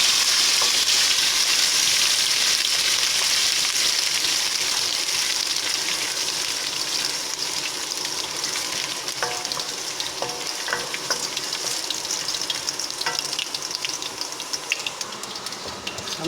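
Ginger garlic paste sizzles and fries loudly in a pan for potato bhujia, a constant crackling hiss with scattered pops and stirring scrapes that eases slightly toward the end.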